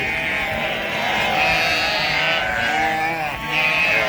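Sheep and lambs in a pen bleat repeatedly and overlap in a loud, close chorus, with a faint hint of other sounds in the background.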